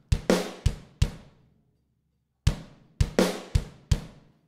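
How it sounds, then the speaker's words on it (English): A drum kit with dry close tracks blended with room microphones: sharp separate hits with short natural decay, a quick cluster of strikes, a pause of over a second, then another burst of hits, with no talking. "that only sounds like a drum kit with a bit of room on it, nothing special"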